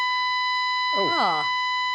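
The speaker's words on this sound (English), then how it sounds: "Oh, it's gone off. Thank goodness. An alarm. Please evacuate." A building fire alarm sounds during a live TV breakfast broadcast, steady high electronic tones running throughout while a voice speaks over them.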